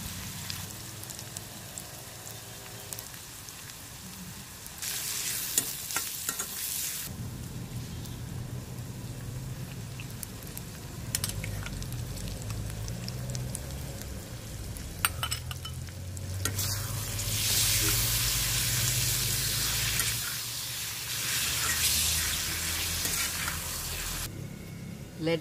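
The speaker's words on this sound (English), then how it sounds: "Let prawns cook for some time." Prawns with shallots and salt fry in a pan, a loud, steady hiss swelling and easing as the pieces are stirred and scraped about, with occasional clinks and no talk.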